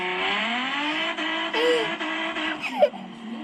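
A nitrous-fed Nissan 350Z engine holds a loud, sustained howl near redline, chopping repeatedly as it bounces off the rev limiter, with a short sharp peak near the end.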